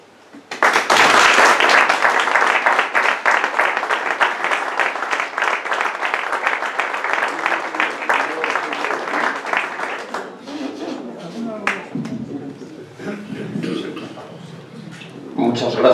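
Audience applause at a Fiesta del Asturcón presentation event, loud and dense at first then thinning out toward the end as a voice begins speaking over the last scattered claps.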